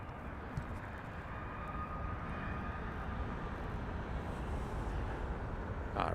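A Spirit Airlines airliner arriving at Las Vegas Harry Reid International Airport makes a continuous broad engine roar, steady and moderately loud, heard from a distance with no voices.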